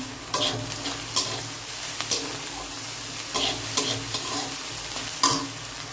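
Food fries in a pan with a continuous close sizzle, punctuated by about half a dozen quick scraping stirs at uneven intervals, with no one speaking.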